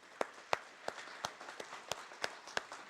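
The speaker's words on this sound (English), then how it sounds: "I think he deserves a big round of applause for that" A small audience at a Bathurst meet-the-candidates event gives sparse, individual claps, about nine distinct slaps spaced unevenly over a few seconds, with a quiet room behind them.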